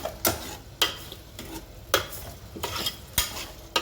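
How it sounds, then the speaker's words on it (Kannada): Fenugreek greens being stirred and fried in a pan over a medium flame: a steady sizzle broken by regular sharp scrapes of a spoon against the pan, roughly one stroke every half second. "ಫ್ಲೇಮು ಮೀಡಿಯಮ್ ಇಟ್ಕೊಂಡ್ಬಿಟ್ಟು ಮೆಂತ್ಯ ಸೊಪ್ಪನ್ನ ಫ್ರೈ ಮಾಡಬೇಕು."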